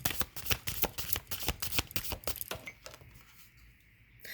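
Tarot cards shuffled by hand in a rapid series of crisp riffling flutters, close and fairly quiet, tapering off into near silence after about three seconds.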